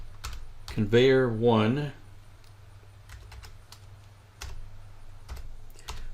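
Brief light tapping on a computer keyboard while working in RSLogix/Studio5000 software, soft scattered clicks after a short spoken phrase.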